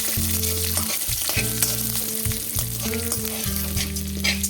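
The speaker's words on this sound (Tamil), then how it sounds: "இப்போ நமக்கு ஒரு ரெண்டு நிமிஷம் நல்லா வதக்கி ஆகிட்டாச்சு" Urad dal, chana dal, dried red chilies and garlic fry in hot oil with a loud, constant crackling sizzle, and a spoon stirs and scrapes the pan close by.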